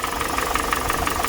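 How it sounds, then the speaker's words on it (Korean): A used Kia K5 engine with about 68,000 km on it runs steadily, giving off a continuous mechanical hum with a fast, even ticking and rattling knock throughout. "엔진에서 좀 특이한 음이 들려요"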